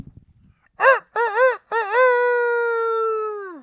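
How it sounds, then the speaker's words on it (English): A rooster crows close up, a few short choppy notes followed by a long drawn-out call that tapers off; a brief low rumble precedes it. "Rooster. Oh, okay, rooster. Let's hear that."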